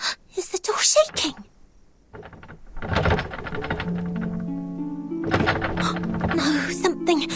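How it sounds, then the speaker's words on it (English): A door rattles and shakes in the Reverse 1999 video game, with a few hard thunks and knocks followed by a sustained tonal drone and game music. "Is the door shaking?"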